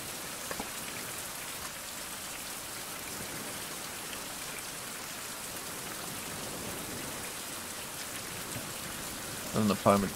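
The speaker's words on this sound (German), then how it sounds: "Soll mir doch egal sein, dass es regnet." Steady rain pattering on surfaces in a survival video game, continuous hiss throughout with a brief louder knock near the end.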